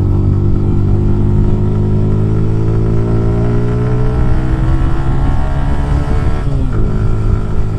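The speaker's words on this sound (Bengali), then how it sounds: "ইচ্ছে করেই বেশি বেশি থ্রটল পুশ করছি, দেখতে চাচ্ছি পারফরমেন্সটা কেমন পাই" Motorbike engine revving loud and continuous on a dusty zigzag hill road at Farua, Rajasthali, the pitch climbing steadily as the rider keeps pushing the throttle, with a brief dip near the end.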